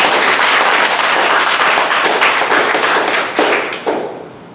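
An audience at a Toastmasters table topics contest claps for a contestant, a dense loud applause that holds steady, then thins out with a few last claps.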